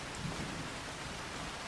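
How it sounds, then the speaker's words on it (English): Steady rain hisses evenly over a farm during a thunderstorm, with a low rumble underneath, a brief stretch of stormy downpour with no voices. "it's raining here."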